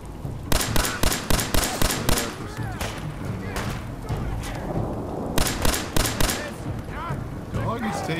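Grenade explosions in Fallout 4, a rapid string of sharp booming blasts and crackling bursts in clusters, loud and close, with gunfire-like pops among them.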